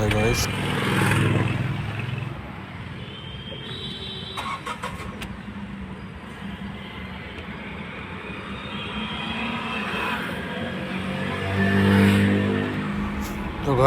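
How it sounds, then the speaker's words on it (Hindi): A Tata Nexon, its rat-chewed wiring just repaired, is cranked on the self-starter and its engine comes to life with a low, steady rumble. Someone speaks briefly over the engine noise. "अब देखते हैं सेल्फ मार करके क्या रिजल्ट आता"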